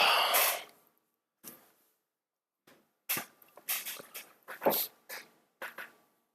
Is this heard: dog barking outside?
yes